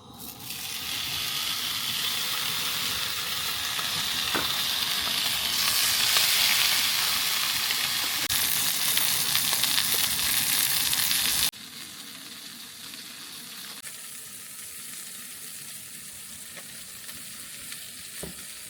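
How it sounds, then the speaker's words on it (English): Big steaks frying in a pan on a camp cooker give a loud, steady close sizzle that runs unbroken, then drops to a quieter sizzle partway through, with no talking. "I'm cooking up some steaks"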